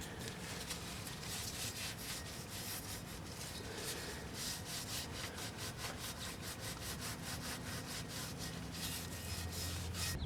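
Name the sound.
wiping transmission pan with brake-cleaner towel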